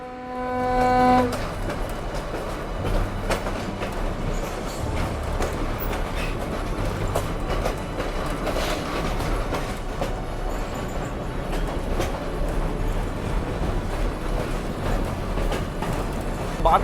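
The free train of the Bhakra Railway, with an all-wooden interior, rolls along steadily, a continuous low rumble with rhythmic clickety-clack of wheels on the track, heard from on board throughout.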